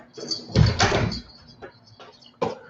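A front door being opened, with a few dull knocks and rattles of the handle and frame, fairly close, ending in a sharper thud.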